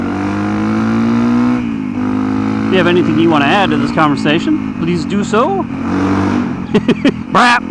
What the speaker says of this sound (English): I've just been riding a motorcycle.